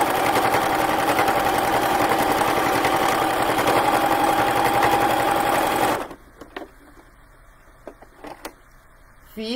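A sewing machine runs continuously, stitching a double seam on a garment, its fast steady whir loud for about six seconds before stopping abruptly, leaving faint handling clicks and rustles.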